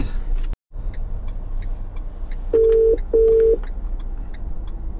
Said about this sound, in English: Come on, Sarah, answer your fucking phone